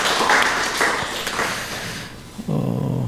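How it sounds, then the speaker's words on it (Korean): Congregation applause at a Sunday church service in Mexico, welcoming a visitor: a dense wash of clapping for about two seconds that thins out, then gives way to a low sustained tone. "우리 박수로 환영하도록 하겠습니다"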